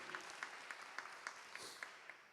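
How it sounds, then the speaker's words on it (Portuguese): Sparse, evenly spaced handclaps from a small prayer group gathering, about eight claps in a steady rhythm, moderately faint with room ambience. "Vamos aplaudir a palavra de Deus, irmãos, com bastante amor."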